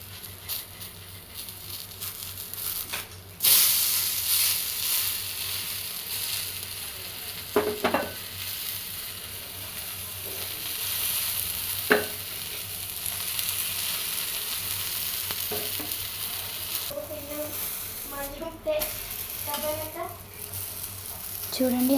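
Food frying and sizzling in a pan on the flame, with stirring and a spatula flipping and scraping it, a steady hiss throughout and sharper clatters near the end.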